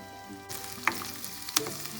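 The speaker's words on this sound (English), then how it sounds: "you can add the onions to this" Onions hit hot vegetable oil in a pan, bursting into a close, bright sizzle after a quiet start, with a couple of sharper crackling pops as the pieces settle into the oil.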